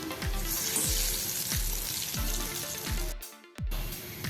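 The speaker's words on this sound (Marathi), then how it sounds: "आता आपण हे डीप फ्राय करूया" Stuffed rolls deep frying in hot oil, a steady crackling sizzle running throughout, with a brief quiet gap near the end before the bubbling resumes; no talking.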